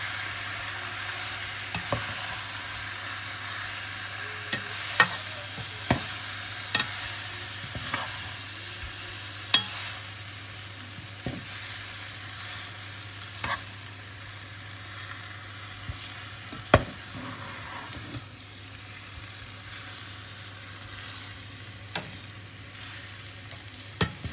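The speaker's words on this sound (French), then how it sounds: "je vais rajouter de la farine ou de la maïzena. Là, moi j'utilise de la maïzena" Cornstarch being stirred into beef bourguignon in a hot pan, with a steady sizzle and frying hiss beneath repeated scraping strokes of the spoon, close and fairly loud with no voices.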